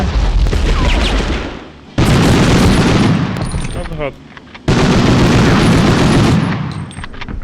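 A grenade explosion and gunfire in the video game Medal of Honor: two loud, sudden blasts with long rumbling decays, bursts of gunfire, and voices faintly underneath.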